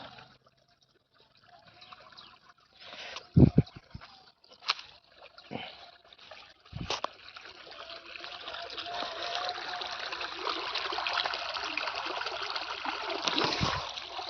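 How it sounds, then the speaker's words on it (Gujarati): Water from a farm irrigation pipeline, fed by a motor-driven pump from a well about a kilometre away, gushes out in a steady, swelling rush that grows louder and more constant after a few scattered splashes and knocks. "પાઇપ પાઇપલાઇનથી પાણી આવે"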